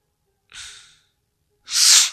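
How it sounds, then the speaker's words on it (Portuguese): Heavy huffing breaths from a man with a cold: a softer exhale, a pause, then a louder, rougher one, both close and with no talk. "Estou a bufar."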